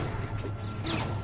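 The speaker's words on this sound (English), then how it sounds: "he's just smashing up these environmentals" Breakable objects and pots get smashed in X-Men Legends II, with short crashing impacts over a dense, steady rumble of game music and ambience, loud and continuous, with no voices.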